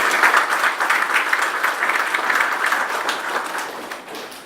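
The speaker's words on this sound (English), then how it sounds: "may I ask you all also to put your hands together to applaud the success of those graduates today" Guests at a college annual graduation ceremony applaud the graduates, a dense wash of clapping from a large crowd that rolls on steadily and gradually fades.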